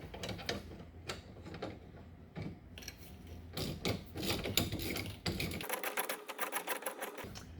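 A ratchet clicks in quiet, uneven bursts while loosening a 9/16 leaf spring bushing bolt on a 2003 Club Car golf cart, with some tool and metal handling between strokes.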